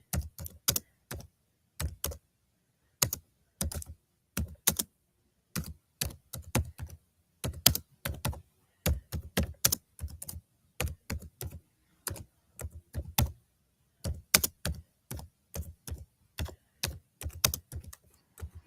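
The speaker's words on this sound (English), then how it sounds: "Becca, are you typing?" Someone typing on a computer keyboard, close and clear: irregular runs of sharp key clicks with short pauses between bursts, going on steadily throughout with no talking.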